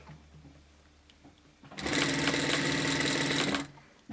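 Sewing machine back tacking and top stitching woven fabric for a button hairband, quiet at first, then a single loud burst of rapid mechanical stitching lasting about two seconds before stopping.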